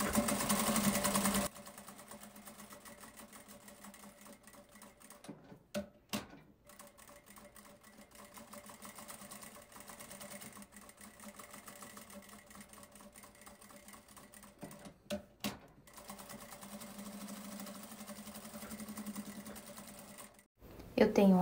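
A sewing machine stitches the top and bottom seams of fabric pieces for a small bag case, whirring in steady runs broken by short pauses, with a voice talking over parts of it.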